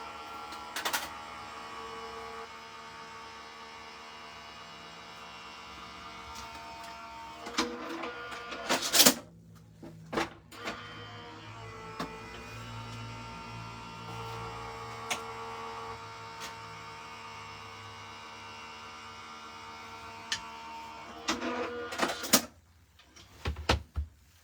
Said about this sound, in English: I'm going to run it through my machine twice, so it takes a little while.